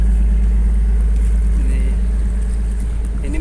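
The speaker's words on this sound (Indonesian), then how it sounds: "Ini mesin penarik jaringnya teman-teman." A net-hauling winch engine on a fishing boat drones steadily while hauling the net, a loud, close, deep rumbling hum that stays constant throughout.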